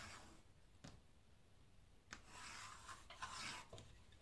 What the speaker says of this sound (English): And then what you want to do is mark a straight line across.